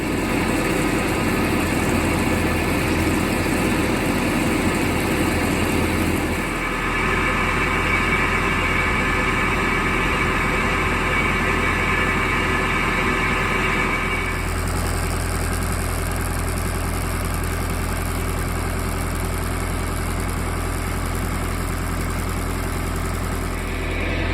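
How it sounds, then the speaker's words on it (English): A tractor engine idles continuously nearby, a constant low rumble with slight shifts in tone partway through and no voices. "I don't know how the sound shows up with the tractor running."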